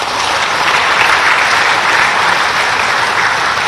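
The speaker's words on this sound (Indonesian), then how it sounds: "tepuk tangan buat kalian." An audience applauds at a farewell event for Erick Thohir at the Ministry of State-Owned Enterprises in Indonesia: dense, steady clapping from a large crowd, loud and continuous throughout with no voices above it.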